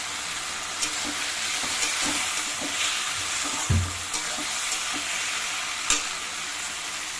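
Spiced masala with mustard-poppy paste and turmeric fries in oil in a pan, a continuous close sizzle broken by repeated scraping strokes of a spoon stirring it, with no talking.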